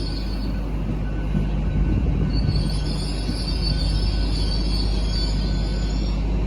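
An empty stock train comes into Cheltenham Spa station from nearby sidings, a steady close rumble of rolling wagons with high wheel squeal rising over it, continuous throughout.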